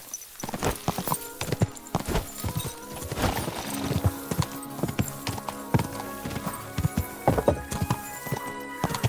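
Horse hooves clip-clop in a medieval role-playing game, a rhythmic series of sharp, close hoofbeats at a walking pace, with a brief whinny or snort mixed in and no talking over it.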